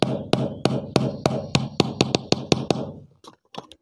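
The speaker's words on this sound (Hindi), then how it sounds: "दोस्तों ये बिल्कुल हमने इसके अंदर ठोक दिया है" Hammering a nail into a CD70 motorcycle battery, about a dozen sharp, evenly paced close knocks that tail off into a few lighter taps, with no speech.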